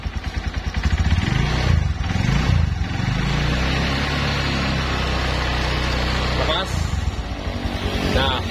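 A Yamaha Verza motorcycle engine with a rough-sounding cam chain and tensioner runs loud and close, revving up and settling back to idle over several seconds while a voice speaks briefly over it.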